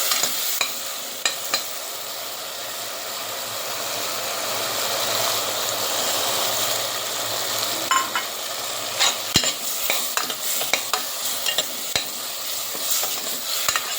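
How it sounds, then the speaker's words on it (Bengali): Spices stir-fried in a pan, a steady close sizzle with scraping spatula strokes, growing more frequent and clattery in the second half. "মশলা দিয়ে দিচ্ছি। ভালো করে কিন্তু কষিয়ে নিতে হবে।"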